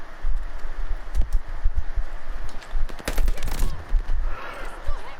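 Submachine gun fire from an MP40 in Call of Duty: Vanguard, bursts of rapid shots around the middle of the clip among scattered game sounds and footsteps, fairly loud with a busy background.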